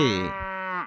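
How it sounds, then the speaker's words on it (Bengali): A cow gives a single short moo, a clear harmonic call lasting under a second, close and alone. "গরু বাছুর"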